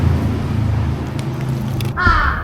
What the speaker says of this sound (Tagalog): Grabe yung uwak.